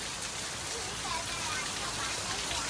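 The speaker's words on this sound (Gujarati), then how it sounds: "જો વરસાદ કેવો પડવાનો" Heavy rain pours steadily at around ten o'clock on a Friday night, a dense, even hiss with no letup. Faint voices may be present beneath it.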